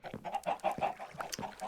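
Backyard chickens clucking and squawking close by, a busy overlapping flock chatter with short repeated calls and no talking.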